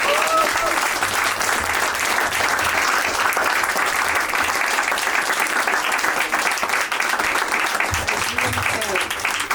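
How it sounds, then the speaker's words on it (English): Audience applause at a talk: a thick, continuous roar of clapping that stays loud and steady throughout, with a few voices mixed faintly into the crowd noise. "Round of applause."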